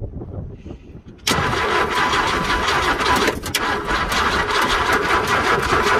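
A car engine on a non-starting beater cranks quietly, then catches at once and runs on loud and steady without pause, with a short dip in the middle of the run.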